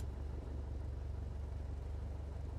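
A steady low engine drone from a Piper Warrior taxiing in a flight simulator game, continuous and even at modest level with no talking.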